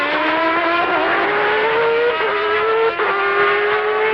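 A Formula One car at the 1993 Brazilian Grand Prix downshifting, its loud high-pitched engine dropping in steps as gears change, close and continuous with no talk.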